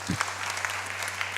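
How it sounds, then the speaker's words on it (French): Church congregation applauding together during a sermon, a steady, even wash of clapping that stays at one level for a moment, with a low steady hum beneath it. "On peut applaudir la parole du Seigneur."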